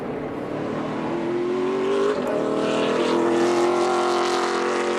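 Race cars running hard on a track, with a loud engine note that climbs and holds, heard alone without commentary.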